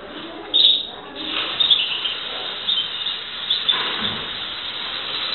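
A newly acquired bird gives a few short, faint chirps while being sprayed with mite insecticide, the scattered calls sitting over a quiet background hiss.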